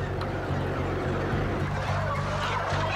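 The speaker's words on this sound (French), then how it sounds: "Attraper des centaines de volailles de 3 kilos chacune pour les mettre dans des caisses" Poultry catchers gathering hundreds of 3-kilo chickens into crates before slaughter, with a dense, steady clamor of many fowl and low engine rumble throughout.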